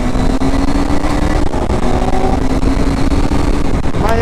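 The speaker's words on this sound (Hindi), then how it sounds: "भाई आवाज बहुत जहर है अपनी बाइक की" A motorcycle on a Sunday group ride, its engine droning steadily up close with a low throbbing hum and slight pitch shifts, no talk over it.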